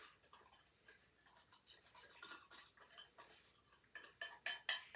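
Chicken fried rice dressing is whisked in a bowl, giving quick, faint rhythmic ticking taps that grow louder and sharper toward the end, close by with no talking.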